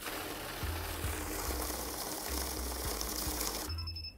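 An Extonic ET-7100 money counting machine processes a banknote, giving a loud continuous mechanical whir with faint regular ticking through it, then stopping abruptly near the end.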